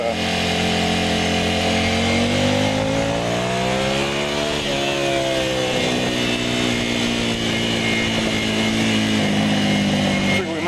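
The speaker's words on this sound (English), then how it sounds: "So as I'm breaking in these tires" A motorcycle engine at bike week runs loud and near while new tires are broken in, its pitch rising and falling through revs with a steady droning roar throughout, and a voice talks over it.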